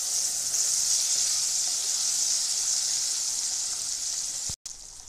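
Onion paste fries in hot oil for matar paneer masala with a loud, continuous hissing sizzle that holds steady throughout, then cuts out for an instant just before the end.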